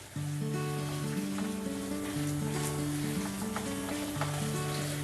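Chana dal and urad dal sizzle steadily while frying golden in oil, a dense, even crackle that runs the whole time under a soft tonal background.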